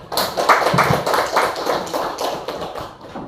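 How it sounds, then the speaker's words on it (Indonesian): An audience at a school webinar gives a short, close round of applause. Scattered hands clap in a dense patter that swells and fades over a few seconds. "Kita beri aplaus dulu."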